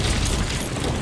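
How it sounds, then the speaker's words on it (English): Ship cannon fire in a pirate-galleon video game, a dense, loud booming blast that fills the whole second with broadband rumble and no voices on top. "Right, I'm gonna cannon them again then."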